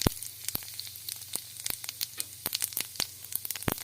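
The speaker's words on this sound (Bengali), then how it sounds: "তেলটা গরম হয়ে গেছে। এবার দিয়ে দেবো জিরে।" Cumin seeds sizzling in hot oil in a pan, a steady close crackle and hiss with frequent sharp pops throughout, alone without talk.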